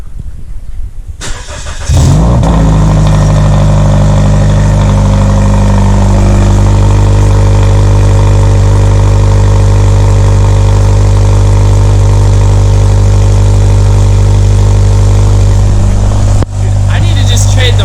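A Scion FR-S fitted with a Spec-D Tuning catback exhaust starts up loudly, then settles into a steady deep idle for most of the clip, with a sudden break near the end.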